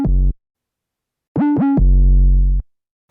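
Deep UK drill 808 bass with glide notes sliding over the basic notes: one short low hit, a pause, then two quick pitch-bending slides into a longer sustained low note, loud and clean with nothing else playing.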